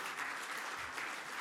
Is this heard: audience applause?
yes